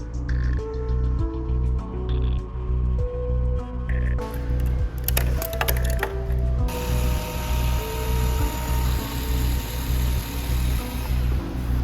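Moving 3D-printed belt and wheel gear mechanism for a cosplay headpiece, a steady loud mechanical whir with rhythmic ratcheting clicks and a rising tonal hum partway through.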